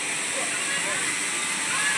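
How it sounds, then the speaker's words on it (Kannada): The Tungabhadra river flows nearby at the pilgrimage town of Mantralaya, a steady broad rushing hiss of water that holds an even loudness throughout. "ಇಲ್ಲೇ ಪಕ್ಕದಲ್ಲೇ ತುಂಗಭದ್ರಾ ನದಿ ಹರಿಯುತ್ತೆ"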